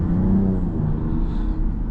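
A 2025 Ram 1500 RHO pickup with the Hurricane inline-six engine drives along, giving a short, smooth, low engine drone from inside the cabin, steady and moderately loud with no talk.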